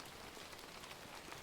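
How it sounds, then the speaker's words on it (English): Steady rain falls during a storm, an even, dense hiss of drops on surfaces, soft and continuous with no other sounds. "Just rain and thunder. Nothing to worry about."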